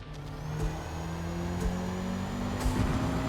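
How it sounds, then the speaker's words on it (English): A Mazda 323 idling on the grid at the start of a race at Eaglerock in Forza Motorsport, its engine hum steady and moderately loud, with faint revs and background car noise. "Let's go ahead and start the race."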